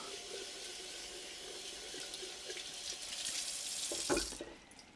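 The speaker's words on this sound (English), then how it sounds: "So we're going to again give it a rinse." Broccoli sprouts are rinsed under a running tap, a steady close hiss of flowing water with splashing that swells and then cuts off near the end.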